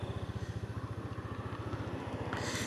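A Nova 160 motorcycle rides at night, its single-cylinder engine putting out a steady, rapid low thump that stays close and continuous throughout, with a brief burst of wind hiss near the end.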